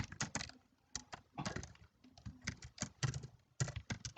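Keystrokes on a computer keyboard during a web-form demonstration, a quick irregular clatter of close, crisp taps in short bursts with brief pauses, heard alone.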